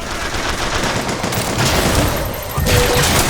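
Sustained, dense automatic fire from a turret in BioShock Infinite roars continuously at high volume, a steady wall of rapid shots that swells near the end.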